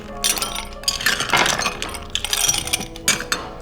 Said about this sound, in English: I'm gonna get some ice in here.